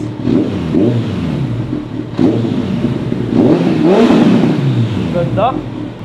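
Kawasaki ZX14R sport bike fitted with a MIVV aftermarket exhaust, revving in several loud surges and dropping back between them, heard close with someone talking over the engine.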